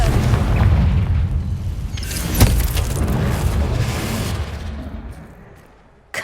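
Confringo fire-blast spell going off in Hogwarts Legacy, a loud booming burst with a sharp crack midway, then a decaying rumble that fades out before a final hit.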